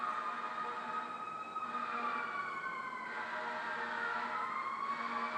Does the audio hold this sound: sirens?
yes